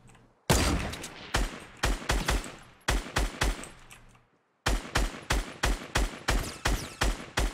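Fortnite gunfire, sharp loud shots in rapid bursts of four to six, separated by short pauses, close and punchy with ringing tails, including a brief silent gap midway.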